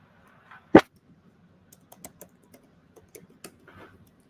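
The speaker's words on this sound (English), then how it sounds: "Just type your system password." A computer keyboard being typed on, one sharp loud key strike followed by a sparse, irregular run of softer clicks in a quiet room.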